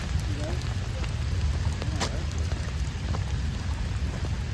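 Heavy rain pours steadily in New York's Central Park, making a dense, constant hiss that fills the scene, with faint voices mixed in.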